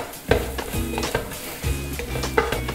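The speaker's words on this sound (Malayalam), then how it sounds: "ഇത്രയും മസാലകൾ ചേർത്ത് നന്നായിട്ടൊന്ന് മൂപ്പിച്ചെടുക്കുക." Masala spices with Kashmiri chilli powder frying on a low flame for a Kerala pepper crab roast, a soft sizzle under repeated scraping stirs of a spoon against the pan, close and alone.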